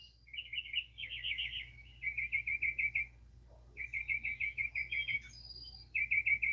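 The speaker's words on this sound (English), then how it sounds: "it's just the birds and the chimes" At dawn, birds repeat fast trilled song phrases in bursts separated by short pauses, clear against a quiet low hum, with a brief high ringing tone near the end.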